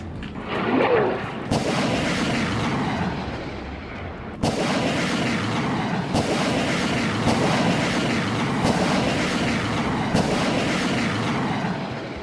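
Heavy booms of missile and rocket fire from a Hezbollah Falaq missile and Katyusha rocket attack on northern Israel, several sharp blasts followed by long rumbling echoes, loud and continuous with no voices.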